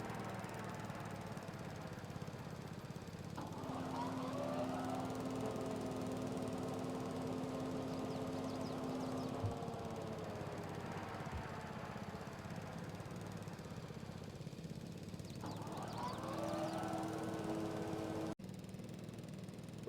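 Mower engine in Farming Simulator 22, mowing grass on a hilly Slovenian farm: a steady, loud mechanical drone with tonal whine that holds for the whole stretch, pitch shifting slightly as the machine works, no talking.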